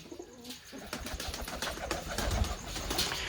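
A pigeon released by hand takes off with a burst of close wing flaps that grows louder and more continuous, set outdoors with no talking.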